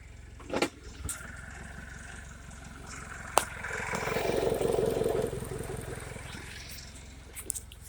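A Suzuki DF175 outboard motor idles in forward gear on a hose test, a steady low engine drone with a few clunks and clicks, swelling slightly midway before settling.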